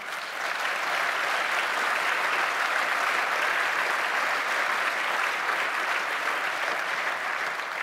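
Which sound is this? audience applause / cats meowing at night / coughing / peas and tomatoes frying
audience applause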